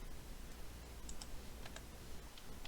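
Faint computer keyboard keys pressed during CAD drafting, a few quick clicks scattered over a low steady background hum, with no voices.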